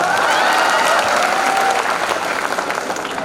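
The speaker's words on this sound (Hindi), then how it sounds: "लड्डू के लिए एक बार जोरदार ताली हो जाए" Audience at a state paramedical conference applauds loudly and steadily, a dense wash of clapping that holds at full strength throughout before easing slightly at the end.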